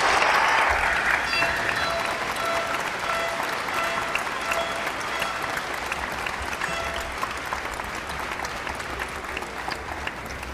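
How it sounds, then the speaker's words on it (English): Audience at a university commencement ceremony gives a long round of applause, dense sustained clapping that starts strong and slowly thins over about ten seconds, with no talking. "Will the members of the audience please join me in another round of applause to recognize the special graduate?"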